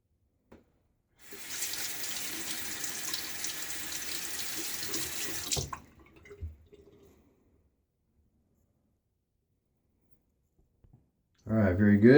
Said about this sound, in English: I rinse off the razor and then rinse off my face.